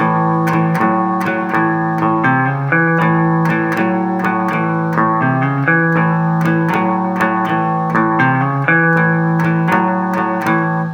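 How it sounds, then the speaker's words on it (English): Electric guitar plays a repeating blues shuffle riff with a steady swung rhythm, low chugging notes and regular plucked accents, slightly distorted and close. "one more variation on that shuffle riff that I like"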